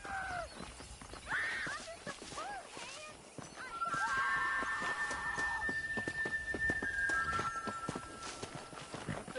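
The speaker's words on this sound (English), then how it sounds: "Watch out for the horses!" Hooves clip-clop on hard ground as horses walk in Red Dead Redemption, with a whinny and sustained synthetic tones over a steady ambient bed.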